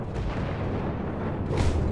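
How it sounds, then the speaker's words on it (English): A teapot cannon fires in the video game Alice: Madness Returns, giving a deep booming blast over rumbling game ambience, with a sharper burst toward the end. "Ah, you want me to use the teapot cannon there."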